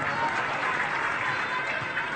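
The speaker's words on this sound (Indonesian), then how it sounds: "Hebat nih, tepuk tangan dulu." A crowd at a charity gathering for orphaned children breaks into steady, dense applause that holds at an even level throughout, mixed with a murmur of voices.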